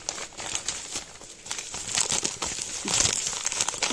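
Parcel packaging being opened by hand, with close crinkling plastic and paper rustles that swell and grow louder toward the end.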